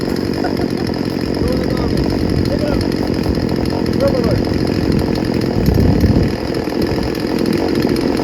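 A gas chainsaw, a Craftsman 16-inch 38cc, roars steadily at full throttle, loud and close, holding a constant high-revving drone throughout without bogging, with a slight surge near the end.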